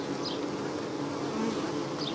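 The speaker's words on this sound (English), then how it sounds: "The bees are actually landing on my arm right now. Flying right on my arm to get into the hive." Honey bees fly into a Warre hive in a close, steady buzzing hum that holds without a break.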